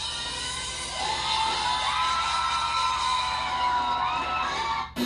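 A concert crowd cheers and whoops loudly over a female singer's sustained high note, a dense continuous roar of voices with the thin sung tone faintly threading through, cutting off abruptly at the end.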